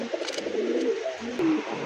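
Pigeons coo softly at close range in short throaty rolls, a few overlapping calls within a couple of seconds, with a light background hiss.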